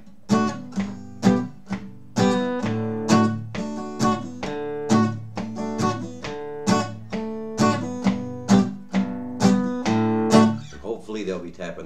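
An acoustic guitar strums chords for a song in a steady beat, with strings muted between strokes so each strum ends in a sharp percussive chop, played alone at moderate volume.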